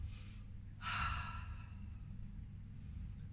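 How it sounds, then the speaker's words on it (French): A person doing a Pilates exercise at home breathes out in one audible, breathy exhale after a faint inhale, close and quiet against a low background hum. "j'inspire, je souffle, je garde la respiration Pilates"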